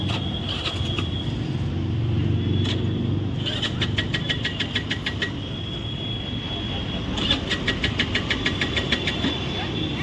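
Vehicle engine being started: two rapid bursts of rhythmic ticking cranking over a steady low rumble that carries through the whole stretch.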